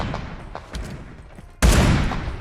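Gunfire in the PUBG Mobile battle-royale game, a 25-versus-25 match: after quieter distant shots, a loud, sustained burst of rapid automatic fire erupts close by and carries to the end.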